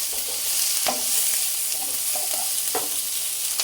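Food sizzles and fries steadily in a pan on a stovetop over medium-low heat, with a few soft scraping stirs of the utensil cutting through the constant crackle.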